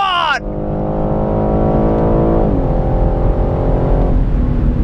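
A 2021 BMW M3 engine screams at high revs on a race track, heard loud from inside the car, its pitch climbing steadily after a quick upshift and dropping back at further gear changes.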